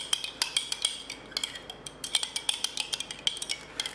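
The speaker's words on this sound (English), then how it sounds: "The honey is very thick, so I'll give it a little stir" A spoon stirring a thick honey mixture in a bowl, giving repeated light metallic clinks and scrapes in an uneven rhythm, close and clear with no voices.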